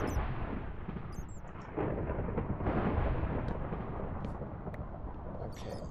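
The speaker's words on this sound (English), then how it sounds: "I really want to go back up to the hills and see what all this thunder is about" In Minecraft, thunder from a storm rolls as a continuous low rumble that swells and fades, with faint higher crackles scattered above it.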